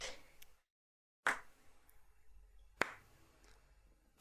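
Three separate sharp hand claps spaced well apart in a slow, deliberate rhythm, close and fairly loud, with a silent gap after the first and a faint room murmur between the others.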